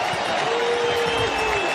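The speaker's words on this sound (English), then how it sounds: "The OU defense on the field asking for crowd noise." Distant roaring stadium crowd noise during a college football game, Oklahoma's defense on the field at Tulsa, a broad steady wash of cheering under a faint tone.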